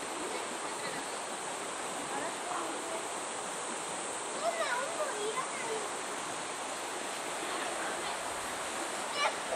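River water flows beside a farm at Higashi Chichibu, a steady quiet rushing wash with faint distant children's voices and bird-like chirps over it.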